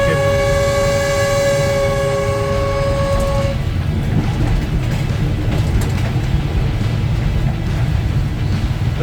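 A train running from Kampot in Cambodia, heard from beside the driver: a sustained horn blast over the continuous loud rumble and rattle of the moving train.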